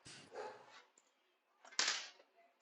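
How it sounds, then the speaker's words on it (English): A dog barks in the background during an indoor talk show, two short bursts with a quiet pause between them, the second one louder. "it would not be a show without a dog barking"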